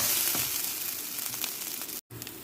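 Garlic fried rice frying in a pan gives a steady, bright crackling sizzle with soft stirring scrapes, briefly cut off near the end before resuming.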